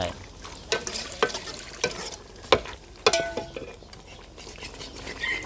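Food stir-fried in a pan, with rhythmic scraping and clanking of a utensil against metal over a continuous sizzle, close and fairly loud.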